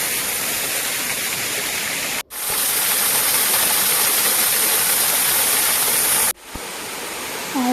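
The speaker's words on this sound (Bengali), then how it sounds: "এটা ছিল ন্যাচারাল একটা ঝর্ণা" A natural waterfall near Cox's Bazar, swollen in flood season, gives a loud, steady roar of rushing water that is cut by two brief sharp breaks and then resumes.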